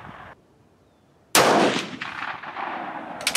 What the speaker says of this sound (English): So let's take another shot